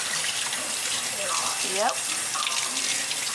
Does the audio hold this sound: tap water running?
yes